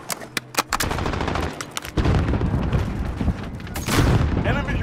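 Rapid automatic gunfire and scattered shots crackle in Call of Duty: Modern Warfare, with quick bursts early on, then heavier sustained firing and booms, close and loud, with game voices calling out over the battle.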